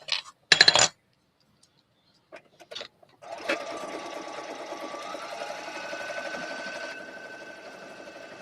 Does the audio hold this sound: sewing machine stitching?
yes